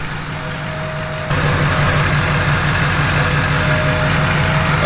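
A Duramax diesel swapped into a K20 truck idles loudly and close with a low steady rumble, growing louder and rougher after a second or so.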